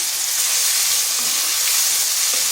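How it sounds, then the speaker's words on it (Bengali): Turmeric powder, green chili and ginger paste fry in hot oil, giving a steady, close sizzle and hiss that runs evenly without a break. "হলুদটা এই জন্য আগে দিলাম তাতে তেলটা ছিটাবে না আদাটাকে একটু ভেজে নিলাম"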